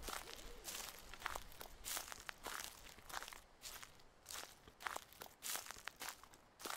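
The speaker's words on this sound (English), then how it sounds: "I swear I'm hearing other steps of footsteps besides mine." Footsteps crunch steadily through a dark forest in Slender: The Eight Pages, an uneven rhythm of close, crisp steps over quiet background noise, with no voices.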